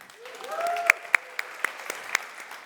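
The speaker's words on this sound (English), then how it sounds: "Give yourselves a hand of applause." Conference attendees clap for themselves, sparse and fairly quiet, with a few sharp individual claps standing out over a soft murmur and a brief vocal whoop near the start.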